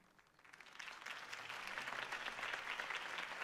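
Applause from a crowd in a video game swells from quiet to a steady, dense clapping that keeps going without anyone talking.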